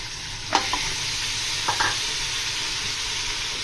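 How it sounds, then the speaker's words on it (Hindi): Beef sizzles steadily in a pan with browned onions, garlic-ginger paste and green chillies, with a couple of brief stirring scrapes and clinks over the continuous frying hiss; close, no talking. "और इसके साथ ही हम गोश्त डाल देंगे।"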